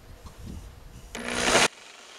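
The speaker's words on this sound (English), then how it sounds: "I'm gonna cut that piece of trim to that length and then I'll install it." A power tool cuts a length of wood trim in a short, loud burst of roughly half a second that stops abruptly, following quieter handling noises.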